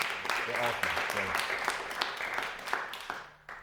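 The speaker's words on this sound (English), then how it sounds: "give them a round of applause real quick" Applause for poets, a short burst of audience clapping at a poetry event that thins out and fades, with a voice speaking over it.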